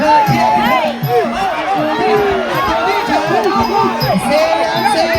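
A packed crowd at a Thai boxing match yells and cheers loudly and without a break, many voices shouting over one another in a dense, surging roar.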